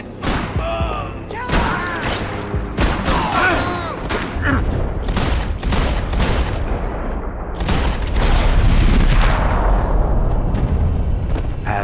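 Gunfire and heavy impacts during a shootout in the action game Max Payne 3: loud bursts of shots and thuds come in irregular clusters, with voices talking over much of the chaos.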